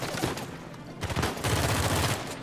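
Rapid bursts of gunfire crackle and thump in quick succession, dense and loud, like a chaotic firefight in the game Uncharted 4.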